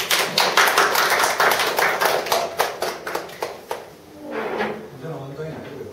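A crowd at a Korean storytelling talk event applauds to welcome the next speaker, steady dense clapping that thins into a few scattered claps and then dies away, with voices talking faintly near the end.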